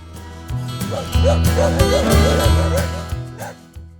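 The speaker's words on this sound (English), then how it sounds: "It barked at me the entire time I was here." A dog barking repeatedly at a graveside in a cemetery, a rapid run of yips and bow-wows at moderate distance, steady and insistent for several seconds.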